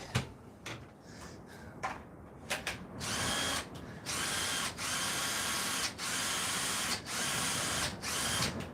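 Repaired Makita cordless drill running on a weak battery after a fault, short steady whirring bursts stopping and restarting several times, close and fairly loud, with no talk.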